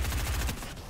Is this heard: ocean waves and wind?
no